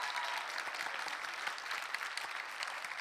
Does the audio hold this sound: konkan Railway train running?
no